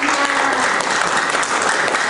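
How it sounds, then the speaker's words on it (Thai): Audience applauding two performers at the close of a Thai show segment, a dense, steady wash of clapping that holds evenly from start to finish, with a faint voice underneath. "ขอเสียงปรบมือให้กับพี่บุรีกับพี่ปัญญาเาียค่ะ"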